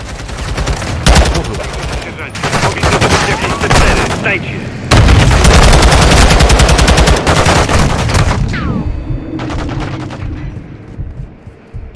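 Call of Duty Modern Warfare II gunfire: loud, dense bursts of rapid automatic shots in several long volleys with brief pauses, close and harsh, tapering off at the end, with a voice swearing briefly.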